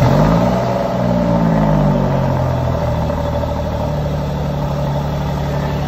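Alfa Romeo Stelvio Quadrifoglio SUV engine roaring loud and close, with an opening rev that falls off into a deep, steady throaty idle for several seconds.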